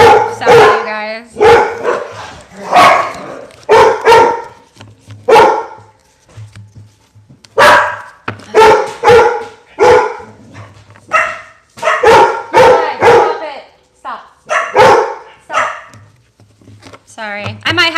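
Several dogs bark repeatedly in a tiny home, loud and close, in bursts of sharp yaps and barks spread across the whole stretch with brief pauses between volleys.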